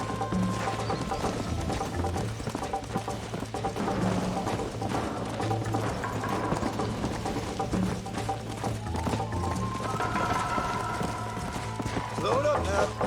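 A horse gallops in the video game Red Dead Redemption, its hooves clip-clopping in a steady, fast rhythm under game music and spoken dialogue.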